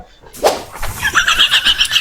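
Goats near a pen on a village building site give repeated bleating calls, close and fairly loud, following a short rustle at the start.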